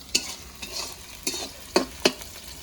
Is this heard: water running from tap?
no